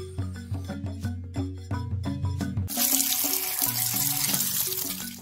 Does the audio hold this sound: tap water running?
yes